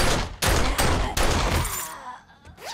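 Pistol shots ring out in the survival video game 7 Days to Die, four loud sharp reports in quick, fairly even succession, each followed by a ringing tail that fades away at the end.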